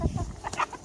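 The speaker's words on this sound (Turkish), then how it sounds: "Bayağı tavuk var." Chickens cluck in short bursts at a farm, close and fairly soft, in a very brief snippet with faint background sound.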